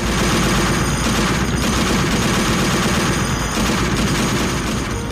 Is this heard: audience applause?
no